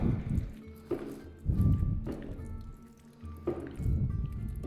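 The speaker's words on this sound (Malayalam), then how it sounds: "ഉപ്പ്, കുരുമുളക് പൊടി, ജിഞ്ചർ ഗാർലിക് പേസ്റ്റ്, യോഗട്ട്, ഇത്രയും സാധനം ചേർത്ത് നന്നായി മിക്സ് ചെയ്യുക." Chicken being mixed by hand with yogurt, ginger garlic paste, salt and pepper powder for a Mughlai curry marinade, giving soft, wet squelching pulses at close range in an irregular rhythm.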